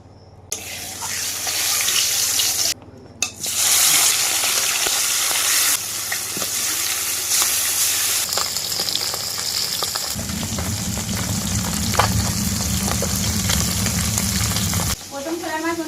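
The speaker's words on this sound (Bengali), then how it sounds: "একে একে মাছগুলো ভেজে নেবো।" Salted, turmeric-coated fish sizzle and spit in hot oil in a wok, a loud crackling fry that carries on steadily, with a stretch of louder, denser sizzling partway through and brief quiet gaps near the start.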